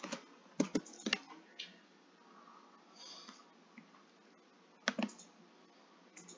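Computer keyboard typing, close and quiet: clusters of sharp key clicks at the start and again near the end, with sparse, softer taps in between and no talking.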